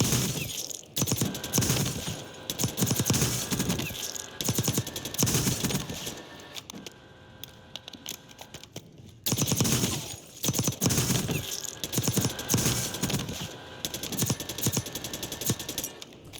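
Video game rifle fitted with a compensator firing long rapid automatic bursts, dense rattling shots in two sustained strings separated by a brief quieter gap, loud and close.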